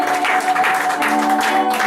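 A church congregation claps and cheers together in praise, sustained close applause with raised voices mixed in across the whole moment.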